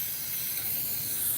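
Spray glue hisses from a can onto a leather and foam lined case for an Acer Predator laptop, a steady, close, continuous spray with no voices.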